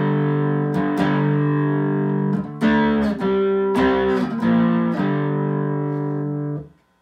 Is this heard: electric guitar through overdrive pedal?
yes